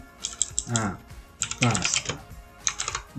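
Bursts of quick clicking keystrokes on a computer keyboard, close and clear, arriving in three short flurries with gaps between.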